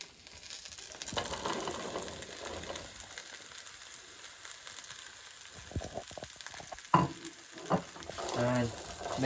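Courgette, aubergine and broad beans are stirred and sizzling in a hot pan for a vegan broad bean curry, with a steady frying hiss and scraping spoon strokes, a few sharper clinks near the end.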